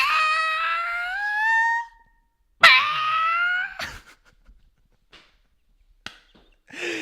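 A person vocally imitates a squirrel call: two drawn-out, rising squeaky chirps, each lasting a second or more, close and loud, followed by a few faint clicks and a short final squeak.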